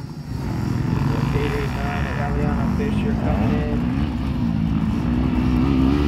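A motocross motorcycle engine drones and revs at a race, a steady loud motor hum with shifting pitch heard from trackside while spectators shout and talk.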